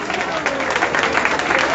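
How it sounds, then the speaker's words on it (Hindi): A crowd at a Janmashtami Krishna Leela drama claps for a cast member, a moderate dense patter of many hands that runs unbroken beneath a voice. "उनके लिए तालियां बजाइए।"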